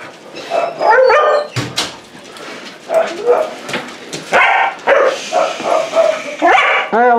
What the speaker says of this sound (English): Piercing bark.